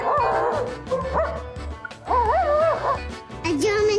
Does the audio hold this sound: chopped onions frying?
no